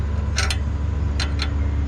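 A wrench tightens a part on a car in a garage beside a Mazda and a CBR1000RR, two pairs of short sharp ratcheting clicks over a low steady hum.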